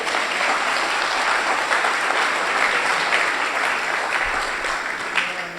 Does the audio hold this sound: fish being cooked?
no